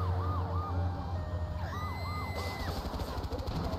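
Ambulance siren from the GTA 3 video game, a wailing tone rising and falling in repeated sweeps over steady engine and traffic noise, shifting pitch partway through as the vehicle passes close by.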